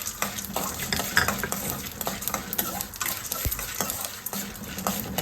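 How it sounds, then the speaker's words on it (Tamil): Mustard seeds and dried red chillies crackle and splutter in hot oil for curry leaves rice, a dense steady frying sizzle with scattered sharp pops and occasional utensil clinks, close and continuous with no talking. "கடுகும் காஞ்ச மிளகாயும் சேர்த்துக்கிறேன். பொரியட்டும்."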